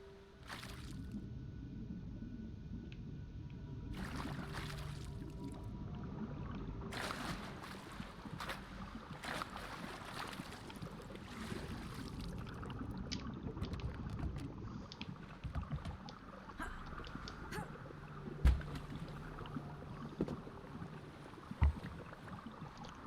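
A boat is paddled through water in Never Alone, with soft repeated splashes and swishes over a low wind and water bed, and a couple of sharp knocks near the end.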